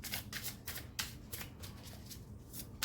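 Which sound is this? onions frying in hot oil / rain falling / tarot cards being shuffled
tarot cards being shuffled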